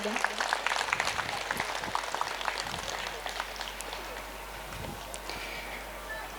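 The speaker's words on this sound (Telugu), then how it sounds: "మరొక్కసారి చప్పట్లతో అక్కకి థ్యాంక్స్ ఇద్దాం" Applause from an audience at a Hindu gathering in Bhagyanagar, a dense crackling wash of many hands that is loudest at the start and eases slightly while continuing steadily to the end.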